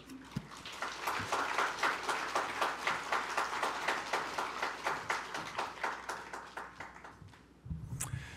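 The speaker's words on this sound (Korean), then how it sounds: "기대하는 마음으로 나오실 때 큰 박수로 환영하도록 하겠습니다" A church congregation at a special early-morning prayer service claps loudly and steadily for nearly eight seconds to welcome the pastor, the applause dense and even before stopping abruptly, followed by a brief low sound.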